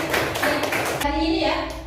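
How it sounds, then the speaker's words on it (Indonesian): Classroom clapping from students, a short burst of hands clapping together for about a second, then cutting off abruptly into quieter room tone with a voice nearby. "tepuk tangan untuk semuanya"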